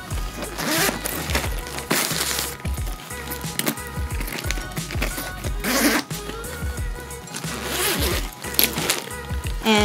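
Zipper on a diaper bag pocket pulled open and shut in repeated quick rasping strokes, close and fairly loud, with handling rustle and no talking.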